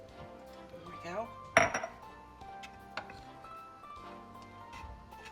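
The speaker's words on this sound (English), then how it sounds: "Just trying to break that cream cheese up a little bit, help it out a little bit to melt." A utensil pressing and breaking up cream cheese in a pan for warm crab dip, with scattered metallic clinks and scrapes, one sharper clatter near the middle, fairly close and moderately quiet.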